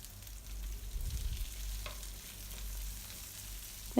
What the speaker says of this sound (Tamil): உப்பு சேர்த்து நல்லா வெங்காயத்தை வதக்கிக்கோங்க